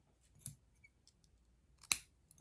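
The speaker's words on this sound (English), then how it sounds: "And I will need to cut 2 lengths from this." Scissors snip through folded bias tape for a small sewn Christmas angel ornament, two crisp cuts about a second and a half apart, close and clear against a quiet room.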